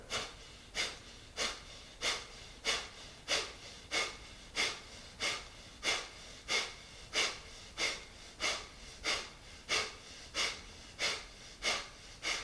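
Rapid yoga breathing exercise, sharp forceful exhalations repeating in an even rhythm about every 0.7 seconds, close and clear with no talking.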